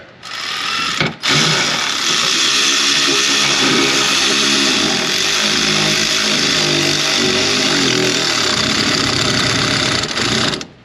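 A power driver fitted with a 1/4 inch bit runs nearly continuously at close range, tightening a hose clamp on a 2019 Ram 1500 5.7. It gives a steady whirring buzz with one brief stop near the start.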